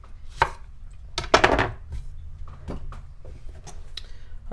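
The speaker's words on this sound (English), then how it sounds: "Alright, so now for the sweet plantains. All we're going to do is cut the ends off." A knife cuts the ends off sweet plantains on a board, giving a few sharp separate chops with one louder cluster of cuts, close and distinct, with no talking.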